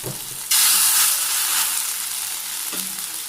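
Bora fritters frying in a little oil, a loud, steady sizzle that bursts in suddenly and carries on with slight stirring movement, no talking.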